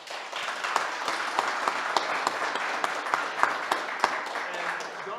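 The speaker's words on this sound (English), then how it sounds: "please help me give a big round of applause to Sarah." An audience at an indoor winter market talk breaks into applause, many hands clapping in a dense, lively patter with occasional crisp close claps cutting through, steady and sustained, a murmur of voices faintly mixed in.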